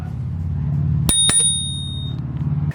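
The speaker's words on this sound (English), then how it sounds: "you do have an integrated bell on the handlebars" Two quick dings ring from the integrated handlebar bell of a Rad Power RadRunner e-bike, bright and close, the second tone lingering briefly over a low background rumble.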